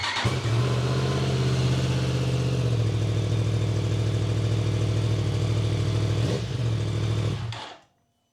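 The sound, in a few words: Yamaha MT-10 motorcycle cold start idling, stock exhaust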